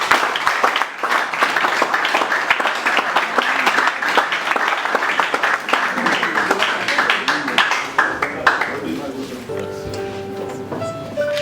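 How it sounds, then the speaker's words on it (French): Applause at a ceremony marking the 22nd anniversary of the NGO Viens et Vois, a dense crowd clapping loudly and steadily before it thins out near the end, where a faint tonal sound and some voices come through. "Félicitations donc à l'ONG Viens et Vois que nous applaudissons encore une fois."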